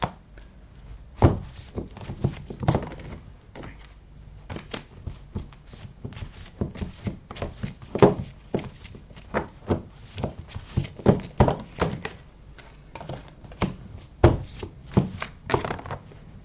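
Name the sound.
drawing tarot cards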